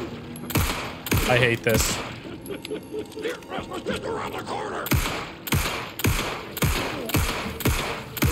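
Gunfire in the survival horror game Alan Wake 2, with bursts of sharp shots landing in quick runs alongside mechanical clicks and other game effects, while a player talks over it.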